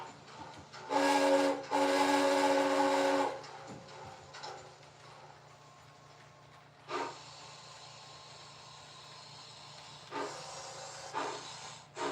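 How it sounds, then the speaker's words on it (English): An HO-scale model steam locomotive sounds an Atchison, Topeka and Santa Fe six-chime whistle, a long, rich multi-tone chime, then several shorter blasts follow after pauses, with hissing steam in between. "American steam Atchison, Topeka, and Santa Fe original 6 chime."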